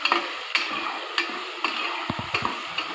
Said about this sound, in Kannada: ಫುಲ್ ಗೋಲ್ಡನ್ ಕಲರ್ ಬರೋ ತನಕ ಆಯಿಲಲ್ಲೇ ಫ್ರೈ ಮಾಡ್ಕೋಬೇಕು